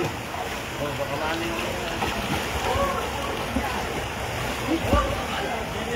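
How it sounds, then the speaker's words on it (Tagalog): Deep floodwater rushes in a strong current through a street in DS Garcia, Cabanatuan City, a steady turbulent wash with wind buffeting the microphone while someone talks over it. "Ayan po, ang lalim ng baha, oh. Op. Ang lakas ng agos."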